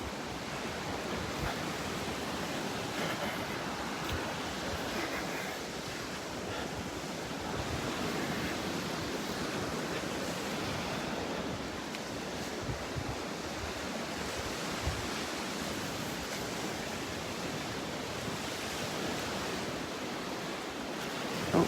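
Waves wash continuously onto a Gulf beach in North Naples, Florida, a steady broadband rush of surf mixed with wind buffeting the microphone, with no voices.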